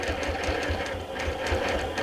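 A sewing machine stitches in the ditch along a quilting ruler, its rapid, even needle pulses running close and steady throughout without talk.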